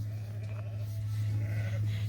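A lamb bleats among a flock of sheep at feeding time on a farm, thin cries rising over a steady low hum, with a few scattered calls from the other animals.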